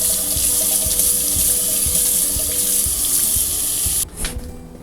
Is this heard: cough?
no